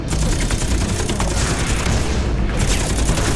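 Continuous heavy gunfire and booming blasts from a co-op shooter video game, Scourge Outbreak, fill the whole stretch as a dense, loud, unbroken barrage with no pauses.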